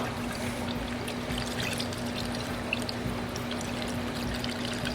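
A half-and-half antifreeze and water mix pours steadily into a water-cooled Kawasaki FD590V engine, a continuous close gurgling stream with a faint hum underneath and no speech.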